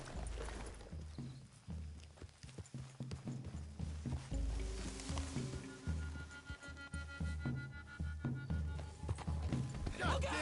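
Horse hooves gallop in a Western-themed video game, a steady rhythmic run of hoofbeats carrying on under a swelling music score and busy game sound throughout.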